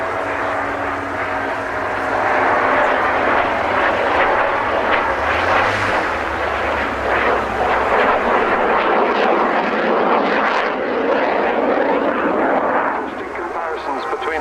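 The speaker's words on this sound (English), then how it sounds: "there goes the Spitfire" A Supermarine Spitfire roars past at an air show, a loud, sustained piston-engine drone that swells and fades with the pass, heavy broadband wind and crowd noise around it, with commentary over the top.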